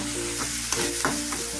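Tomato and onion masala sautés in a pan, a close continuous sizzle with a few quick stirring scrapes, no voices.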